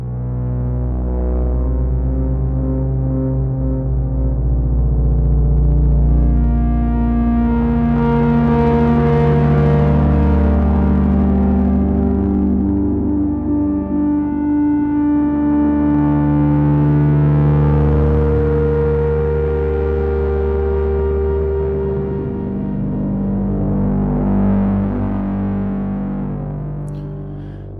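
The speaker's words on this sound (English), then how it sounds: "So yeah, there's this distorted bass and this like auto-tune vocals." Heavily distorted synth bass, generated in TouchDesigner, drones steadily under auto-tuned vocal lines whose processed, gliding pitch swells and fades across the passage, loud and continuous.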